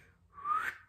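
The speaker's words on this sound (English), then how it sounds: "I whistled a tiny bit, but I really can't whistle." A person whistles briefly and faintly, a single short rising tone lasting under a second, close but quiet, with no talking.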